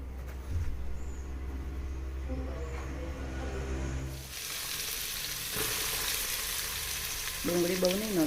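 Tempering for dal sizzles in a hot pan, a steady hiss that grows brighter and fuller partway through, with faint clinks and a brief voice near the end.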